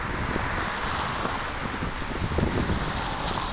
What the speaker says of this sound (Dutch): Want hier hebben we veel te veel wind.